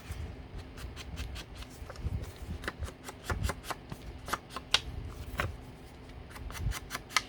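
Cardstock paper edges are distressed with a tool, giving a run of quick, crisp scraping strokes in irregular bursts, close and fairly quiet, with no talking.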